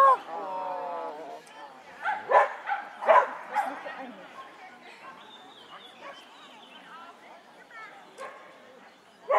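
Several small dogs yip and bark in short bursts at a middle distance outdoors, with some speech-like voices and background chatter mixed between the barks.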